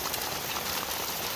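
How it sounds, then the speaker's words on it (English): Hail pounding down during a violent hailstorm over a farm yard, a dense, steady hiss of countless impacts with no pauses, fairly loud and continuous for the whole moment, no voices. "We are getting totally pounded with hail."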